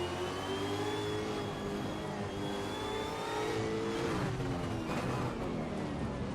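Supercars engines roar steadily in Assetto Corsa at Pukekohe, pitch rising and shifting as cars accelerate and brake, loud and continuous with no voices.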